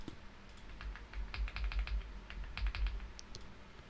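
Computer keyboard typing with Ctrl shortcuts to copy and paste: a quick cluster of close, crisp key clicks, then a second burst after a brief pause, quiet and without talk.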